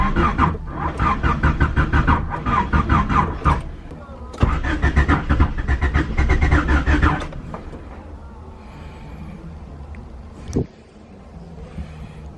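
A converted OBD1 station wagon cranks in two loud bursts of rapid starter chugging, then settles to a quieter, rough, uneven idle with a sharp knock near the end.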